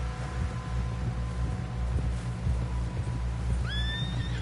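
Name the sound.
horse neighing in video game Red Dead Redemption 2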